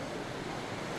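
Wind rushes steadily across open sea while a windsurf board skims and slaps against short choppy waves, a constant close broadband roar with no talking.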